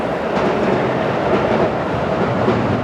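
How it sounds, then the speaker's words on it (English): A train rolling past nearby, loud and continuous rumbling with a faint rhythmic clatter of wheels on rails and no voices. "There goes the train in real life."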